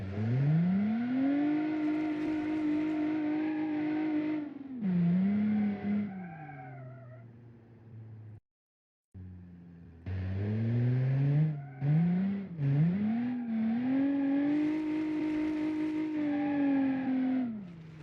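A low-power drift car in BeamNG revs and holds a strained, whining engine tone through long slides, dipping and rising with throttle, cutting out briefly partway through before building again, alone with no talk.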